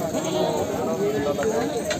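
Goats bleating at a busy goat trading market in Punjab, a steady crowd murmur and voices talking throughout, with animal calls mixed into the near, continuous din.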